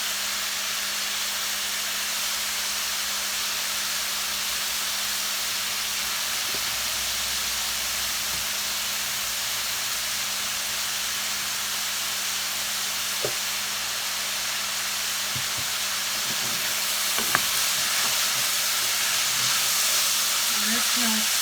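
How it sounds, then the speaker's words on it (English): Garlic with dried basil and oregano sizzles in a hot pot as minestrone starts, a steady close hiss with a few faint clinks and knocks. "this smells so good once the garlic and those dried herbs hit the heat"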